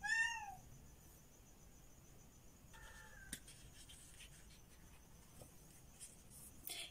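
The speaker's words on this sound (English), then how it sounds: "my cat likes to have his zoomies, and he's very talkative" A talkative cat meows early in the morning, one clear drawn-out call at the start and a shorter second meow a few seconds later, both close and alone over quiet pen-scratching sounds.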